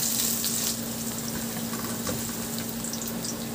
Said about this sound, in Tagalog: igisa ko na rin yung bawang. Maglagay din ako dyan ng luya.